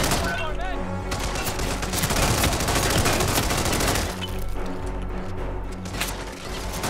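Heavy gunfire from a big gun in the Hitman 2 video game, a dense continuous burst of rapid shots that pauses briefly and then resumes, loud and close, with a voice heard faintly underneath.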